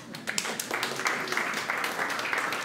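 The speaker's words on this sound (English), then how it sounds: "Applause." A tech meetup audience gives a modest, uneven round of applause, moderately distant and soft, with scattered claps and faint murmuring running beneath.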